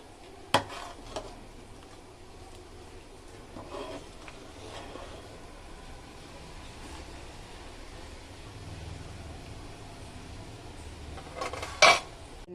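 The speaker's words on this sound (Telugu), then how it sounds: "వీలైనంత వరకు కలుపుతూనే ఉండాలి కలుపుతుంటే మళ్ళీ ఇది విడిపోతుంటుంది" A ladle works through payasam in a cooking pot during Vinayaka Chavithi offering preparation, giving soft scrapes and a few sharp clinks against the metal, with a louder knock near the end.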